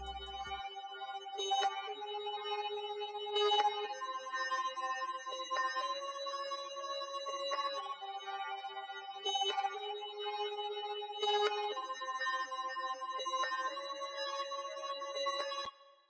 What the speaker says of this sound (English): Now the next sound up is this synth from Serum, and it's going to be playing this pattern.